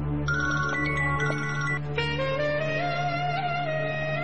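A phone ringtone for an incoming call late at night, playing a clear electronic melody of steady tones that changes pattern partway through, alone over a low background hum.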